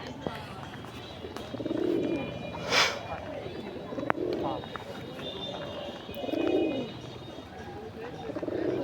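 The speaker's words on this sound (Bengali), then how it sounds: "ওর ডাকটা কিন্তু খুব সুন্দর কুটকুটি ডাক" Soft, low cooing from a Giribaz pigeon repeats in three or four rounded bursts, close by, over steady background hum and faint scattered noise.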